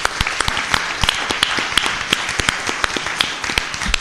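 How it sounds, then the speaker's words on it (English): Audience applause at a ward candidates' Q&A event, a crisp burst of many hands clapping in a room, close and fairly loud, irregular sharp claps throughout. "I think you deserve a round of applause for 30 very good"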